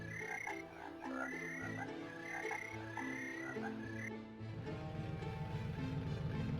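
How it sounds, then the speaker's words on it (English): Frogs croak repeatedly in Alone in the Dark, a steady chorus of overlapping calls at moderate loudness over a continuous game ambience, with a louder, denser croaking burst toward the end. "Frogs!"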